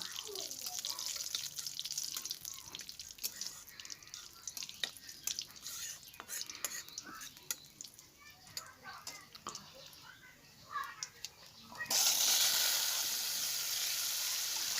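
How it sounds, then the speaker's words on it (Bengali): Small cut pieces of potato frying in oil, with a quiet patter of sizzling and crackles under a voice, then a sudden loud, steady hiss near the end as the frying surges. "এবার যে আলুগুলো কেটে রেখেছি ছোট ছোট করে, সেই আলুগুলো আমি ভেজে নেব।"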